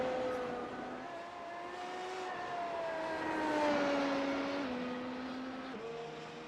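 A Formula 1 race car engine screams at high revs at the Spa circuit during the Belgian Grand Prix, a sustained loud whine rising and falling through gear changes, steady and up close with no talk.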